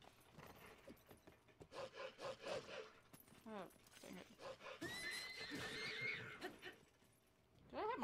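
A horse in the video game The Legend of Zelda: Breath of the Wild, in the Eldin region, whinnies and snorts in several close bursts, mixed with rubbing and scraping game sounds, and a louder neigh rises near the end.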